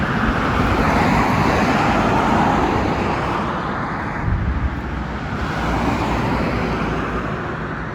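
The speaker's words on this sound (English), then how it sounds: "Come across this B-double scrap metal trailer." A B-double scrap metal truck trailer rolls past on a Sydney road, a loud, broad roar of engine and tyres that swells and slowly eases over several seconds, with no talk.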